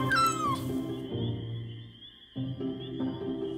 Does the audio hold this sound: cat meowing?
yes